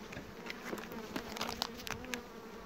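Dense, steady buzzing of many honeybees close by at the hive, a continuous hum with small crackles and taps mixed in, fairly quiet.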